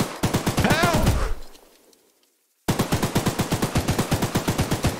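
Gunfire in the train horror game Choo-Choo Charles: a fast, steady machine-gun rattle of evenly spaced loud shots. It dies out, falls silent for a moment, then resumes just as rapidly.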